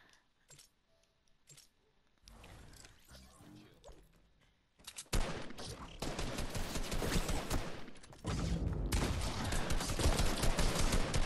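Video-game gunfire comes in sporadic shots at first, then turns into loud, sustained automatic bursts with crackling impacts, close and dense.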